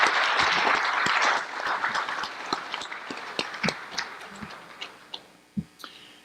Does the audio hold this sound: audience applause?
yes